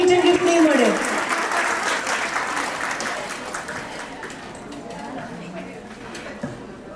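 An audience applauds at a mother-and-child talent dance and fashion show in Gujarat, the clapping starting under a speaking voice and then gradually thinning and fading over several seconds.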